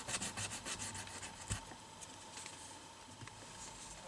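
A coarse abrasive is worked across the wood and frets of a 1964 Vox Lynx guitar during a refret, giving a quiet, steady scratchy rubbing that continues throughout.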